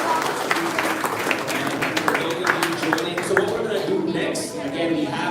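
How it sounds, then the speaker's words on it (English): Audience applause at a premiere launch night event, a dense round of clapping running steadily through the clip with voices talking over it. "Let's give them one more round of applause."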